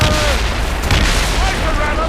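Ship cannons boom in a naval battle in Assassin's Creed Rogue, a dense, rumbling barrage that fills the scene as crew voices shout under the blasts.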